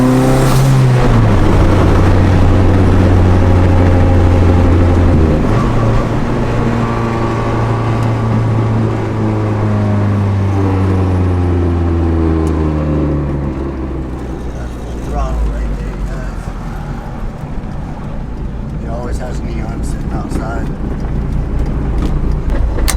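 Fully built, boosted 700+ whp Dodge Neon SRT-4 engine running on a dyno, a loud sustained engine drone whose pitch climbs and falls across pulls, with people talking over it.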